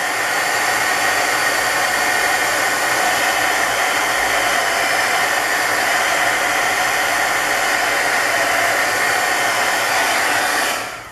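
A heat tool blows hot air steadily over layers of embossing powder on a cupcake wrapper for steampunk ephemera, a loud, continuous whooshing hiss that holds unbroken for the full length and stops at the very end.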